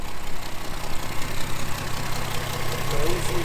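A Plymouth Duster engine with a leaking exhaust manifold runs at idle, a loud, steady, close-up rumble with a faint rhythmic pulse and no break.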